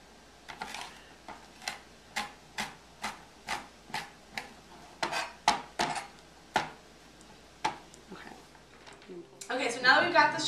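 A knife chops chili peppers on a cutting board for quesadillas, with about a dozen crisp, fairly close taps in an uneven rhythm, ending in a louder scraping clatter.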